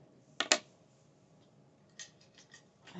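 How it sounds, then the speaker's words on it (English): Scissors cutting yarn for a crocheted baby blanket scarf fringe: two quick close snips, then a softer cluster of small clicks and snips as the blades close again, with no talking. "Cut my yarn."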